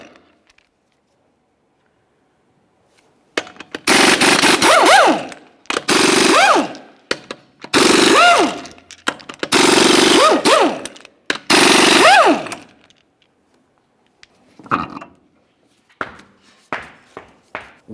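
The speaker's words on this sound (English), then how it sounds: "Continue on with your 22mm socket to remove each of your 6 lug nuts" An impact wrench with a 22mm socket hammers off the six lug nuts of a 1999-2006 Chevrolet Silverado 1500 wheel, in five loud rattling bursts with short gaps, followed by softer clinks of nuts and tools.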